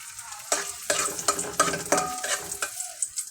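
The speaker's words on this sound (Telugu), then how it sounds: "జీడిపప్పులు, ఇవి కొద్దిగా వేగిన తర్వాత కిస్మిస్" Cashews and raisins frying in a pan for semiya payasam: a close, steady sizzle broken by about five loud bursts of stirring and scraping, with no talking.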